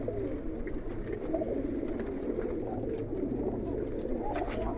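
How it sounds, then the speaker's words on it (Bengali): Soft, continuous cooing from many Kaldom pigeons in a loft blends into a low murmuring drone, steady throughout with no talking. "আর এই পাশে দেখেন কবুতরগুলো সুন্দর আরের মধ্যে বসে আছে"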